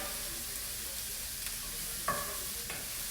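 Cauliflower fried rice frying in a pan, a soft continuous sizzle under a few sharp scrapes and clicks of a utensil stirring against the pan.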